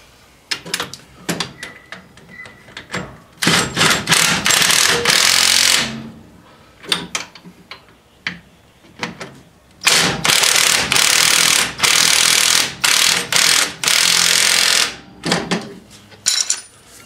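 Bolts are tightened down on a Datsun S30 front brake upgrade with rotor and caliper, using a power tool. Loud bursts of rattling impact come in clusters separated by quieter gaps.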